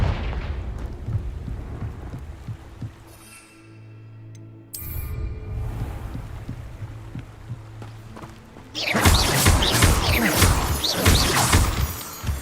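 A Confringo fire spell bursts against crumbling rocks near a ruined tower in Hogwarts Legacy, opening with crackling rubble, dropping to a lull, then surging into a loud, sustained crashing roar of shattering stone to the end.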